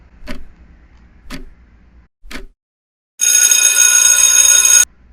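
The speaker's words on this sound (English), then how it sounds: "Timer starts now." A countdown timer for a school quiz ticks three times, about one second apart, then a loud, sustained electronic buzzer sounds for over a second before cutting off. There is no talking.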